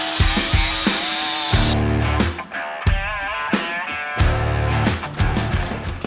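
A power tool cuts off protruding nails in a garage floor, its loud whine coming in several close bursts separated by short pauses.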